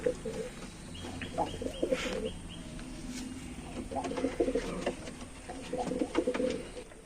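Red Jiriya pigeons coo in a loft, soft repeated throaty calls rising and falling in clusters, close by, with faint rustling and flutter among them.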